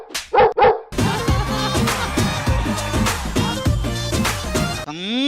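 A couple of sharp dog barks ring out alone at the start, then give way to loud rhythmic music on a Telugu TV comedy dance show.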